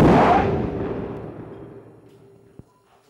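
Bill2 anti-tank missile rear main charge detonating at 0.7 m standoff against a 50mm armor plate fitted with ERA: one loud, close blast that rolls off into a long fading rumble, followed by a small sharp pop near the end.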